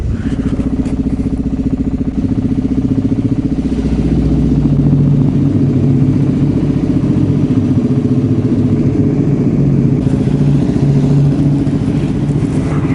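Supermoto motorcycle engine running loud and close in a tunnel, a steady droning roar with rising pitch as it revs, echoing and continuous throughout.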